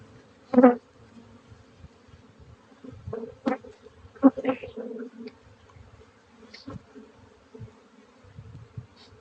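Honey bees around an opened double-deep beehive on a Texas ranch, a soft, steady buzzing with a few louder passes close by, plus faint other noises in the background.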